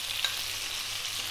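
Finely chopped onion sizzling with cumin seeds and cardamom in a pan, heard as a brief, steady, hissing fry with one tiny tick.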